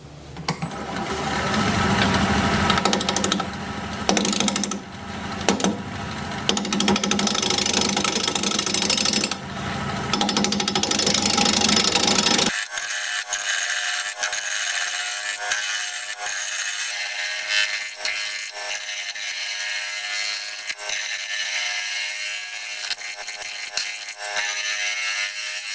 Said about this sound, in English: We're going to be turning at 770 RPM, 5/8 inch bowl gouge